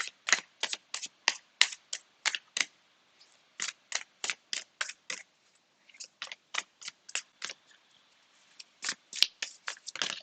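Tarot cards being shuffled by hand, a close series of crisp riffling bursts in quick rhythmic groups with short pauses, heard alone without talk.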